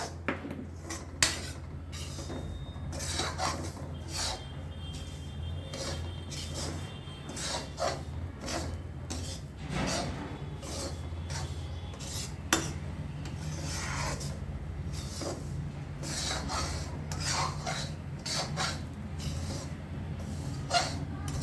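A spoon scrapes and stirs semolina and grated coconut as they roast in a pan for rava laddu, making a steady rasping, clinking rub, close and continuous.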